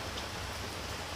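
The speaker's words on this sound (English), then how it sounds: "It is pouring down rain." Heavy rain pouring down outside an outdoor studio, a dense, loud, steady hiss of drops with no talking.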